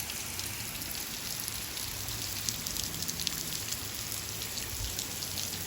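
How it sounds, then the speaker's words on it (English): Heavy rain pours steadily in Kruger National Park, South Africa, a dense, even hiss of falling water with scattered drops pattering close by, continuous and without voices. "you can see the volume of the rain that was falling down."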